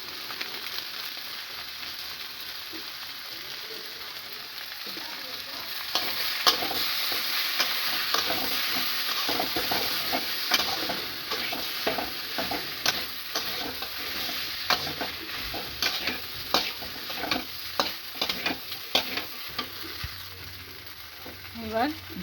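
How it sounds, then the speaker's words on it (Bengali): Spices sizzle and fry in a pan for murighonto along with green chillies and Kashmiri chilli, with a soft steady sizzle broken by repeated scraping strokes of a stirring spoon, close by. "সমস্ত কিছু অ্যাড করে ভালো করে কষিয়ে নেব।"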